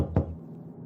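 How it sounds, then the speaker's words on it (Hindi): A single firm knock lands on a wooden house door, one close thud over a quiet low background, with no voices. "उन्होंने एक घर का दरवाजा खटखटाया।"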